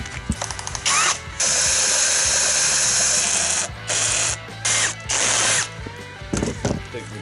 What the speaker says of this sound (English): The drill's just about to give out. Sounds pretty broken to me.